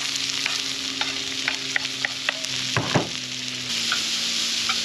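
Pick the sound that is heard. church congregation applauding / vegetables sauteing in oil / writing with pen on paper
vegetables sauteing in oil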